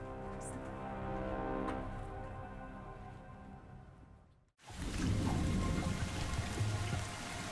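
Heavy rain pours down on a small airport in Dubrovnik, Croatia: a steady, dense downpour hiss with a brief abrupt drop near the middle before the rain returns louder and fuller, with no talking.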